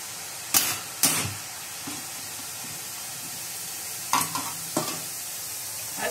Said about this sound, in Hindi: अब ये जो तेज गर्म हो गया है घी, तो उसमें एकदम बूंदी ऊपर आ जाती है।